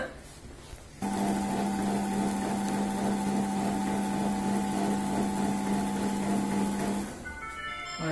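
A kitchen food processor mixes cold butter into dough at its lowest speed, starting abruptly with a steady mechanical hum and rhythmic churning for about six seconds before winding down.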